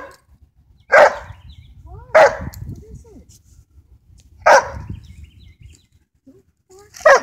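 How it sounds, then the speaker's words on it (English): A dog barks in short, loud single barks, four times with pauses between, close by in an otherwise quiet space. "Why are you barking at me?"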